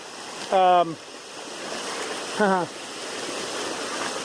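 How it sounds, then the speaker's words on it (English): Rainwater runs down a flooded stretch of the Appalachian Trail, mid-shin deep, as a steady broadband rush of flowing water; two short bursts of voice rise briefly over it. "the water was just running down the trail"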